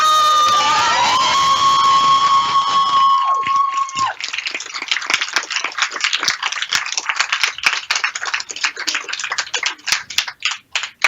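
A crowd cheers and shouts, with whistles and loud calls at first, then rapid clapping and scattered yells that rise and fall.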